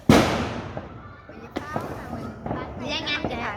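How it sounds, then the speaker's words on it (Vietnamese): A 39-shot fireworks cake fires at New Year: one loud burst opens, followed by scattered pops and crackles at a distance, with people talking over the bangs. "Ừ, pháo của quân đội đó."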